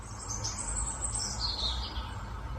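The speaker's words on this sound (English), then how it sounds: "You can just hear the bird song and the general ambience." Distant background bird song, recorded far from a stream, is played back as part of a soundscape: continuous high chirps and tweets over a steady broadband hiss and low rumble.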